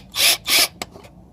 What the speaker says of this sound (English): First thing I'm gonna do is drill pilot holes right in here